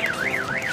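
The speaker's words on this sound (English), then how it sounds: "Sorry about that car alarm." Car alarm wailing in a rising and falling siren pattern, loud and continuous for under a second, with nothing else audible.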